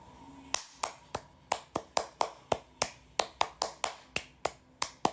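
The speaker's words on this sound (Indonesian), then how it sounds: "Iya betul, tepuk pramuka." A rhythmic Indonesian scout-style clap pattern (tepuk pramuka), around twenty sharp, close hand claps in a quick syncopated sequence, played alone without talk.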